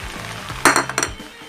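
Thai-style kwetiau flat rice noodles are tossed in a pan. A few sharp metal clinks of a spatula scrape the pan over a low sizzle, close and brief.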